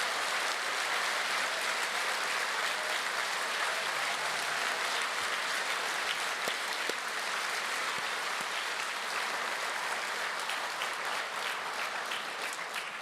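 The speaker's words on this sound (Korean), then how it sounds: "여러분 다시 한번 뜨겁게 감사의 박수를 보내주시면" A church congregation applauds warmly during a 2023 Easter united worship service at Youngnak Church: dense, sustained clapping fills the sanctuary for about thirteen seconds at an even level, with no voices over it.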